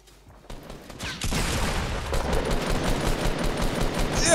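Sustained rapid gunfire in the battle royale video game Fortnite, loud and dense, starting softly and swelling into continuous bursts after about a second, with no talk over it.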